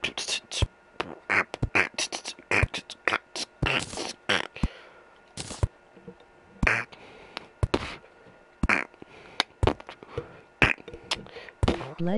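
A voice imitates Donald Duck with bursts of raspy, quacking, garbled chatter that come in quick irregular clusters between short pauses.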